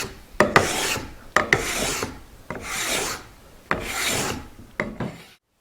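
A file rasps along a wooden Spanish guitar fretboard in five separate strokes, each with a sharp start and a gritty scraping sweep that varies in length, close and clear with brief pauses between passes and no talking.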